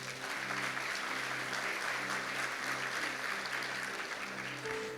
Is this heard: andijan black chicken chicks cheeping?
no